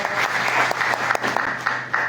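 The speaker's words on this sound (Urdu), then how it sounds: "تبریز منورانہ کو شادی کی سالگرہ کی خوبصورت موقع کی مبارکباد دیجیے زوردار تالیوں سے" Audience at a poetry gathering of the Sukhandaan Foundation applauding, a brief burst of moderately loud clapping with irregular sharp claps throughout.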